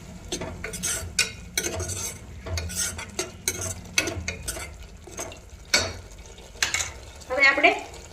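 A spoon works through red masala gravy with Kashmiri red chili in a pan, making repeated close clanks and scrapes against the metal in an uneven rhythm over a soft sizzle.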